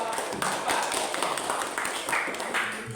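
A classroom of students claps for a group of classmates, a busy, close patter of hands that continues throughout.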